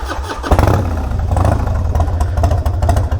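Engine of a cheap used Harley-Davidson Dyna motorcycle starting, then settling into a loud, lumpy, close idle with uneven throbbing pulses, no voices.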